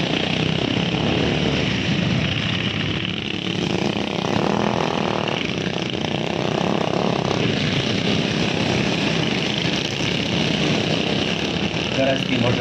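Several Border Security Force motorcycles roar past in formation at a parade, a loud sustained engine drone that rises and falls over nearly thirteen seconds, with crowd or commentary voices faintly mixed in.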